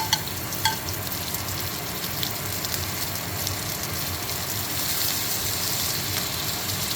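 A steak sears in a hot pan with rosemary, thyme, garlic and butter during a pan-searing class, producing a steady, close, dense sizzle that swells a little toward the end, with a few faint clinks near the start.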